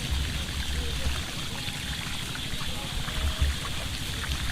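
Water from a homemade siphon pump runs in a steady, broad wash, close and constant, like a strong stream pouring out, with only faint background sounds and no clear talk.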